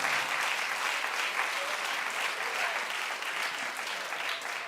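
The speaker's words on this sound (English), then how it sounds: "So now stop clapping for Brad" A television studio audience claps on a daytime talk show, producing loud, sustained, evenly rolling applause that holds steady before easing slightly toward the end, with no clear speech over it.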